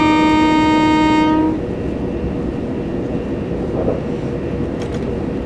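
Class 387 electric train in a Train Simulator game, a loud horn-like tonal blast opening the clip, then a steady rumbling roar of the train passing close by.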